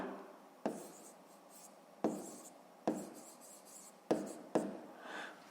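Pen strokes on paper during a sixth-grade math exercise: five short scratchy bursts of writing, each starting sharply then trailing off, close and quiet in an otherwise silent room.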